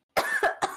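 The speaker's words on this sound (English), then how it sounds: "I need a cough for a minute" A short burst of three harsh coughs in quick succession, close and fairly loud.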